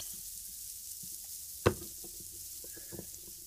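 A chocolate chip pancake cooking in a pan, a soft steady sizzle low in level with one sharp knock and a few small clicks, close and quiet, no speech.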